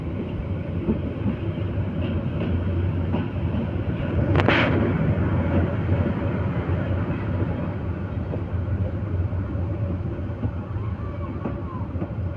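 Teesta Express passenger train arriving at Dewanganj Bazar station, a loud continuous rumble of wheels and carriages with rhythmic clatter and a brief sharp burst midway, heard alone without talk.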